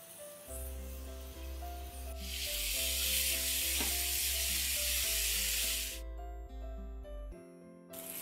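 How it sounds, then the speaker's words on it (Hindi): Chicken fries over a medium flame while a spoon stirs it in the pan, a broad steady hiss that swells midway and then cuts off, with music playing throughout. "चम्मच चलाते जाएंगे और साथ इसे कुक करते जाएंगे"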